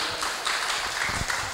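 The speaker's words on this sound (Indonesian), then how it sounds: "Tepuk tangan buat Ibu Rohmatun." Audience applause at a school reunion gathering for a teacher: a continuous dense patter of many hands clapping together, moderately loud and steady throughout.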